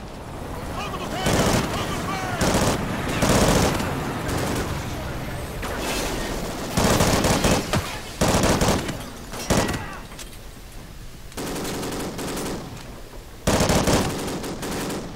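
Gunfire in Call of Duty: Ghosts, a military shooter, as repeated loud bursts of automatic fire broken by short gaps, with game sounds and faint voices mixed in.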